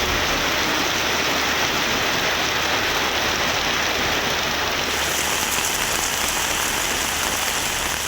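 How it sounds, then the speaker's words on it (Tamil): Heavy rain pours down at night, a dense, loud, continuous hiss of drops striking surfaces with no other sounds. "இரவில் மழை கொட்டி"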